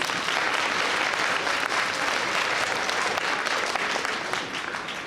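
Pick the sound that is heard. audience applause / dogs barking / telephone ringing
audience applause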